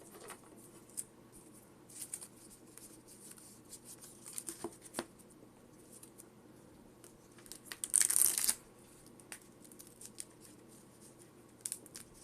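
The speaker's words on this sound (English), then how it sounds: "Alright, let's go and shuffle these decks." Mostly quiet with scattered small ticks and soft riffling of Pokémon trading cards, then one brief, louder crisp deck-shuffle burst near the end.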